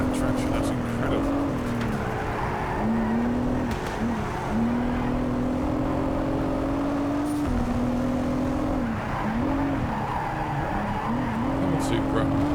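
A Toyota Supra race car in Project CARS 3 holds a loud, steady engine drone with wavering pitch as its tyres squeal through corners, and someone talks over it throughout.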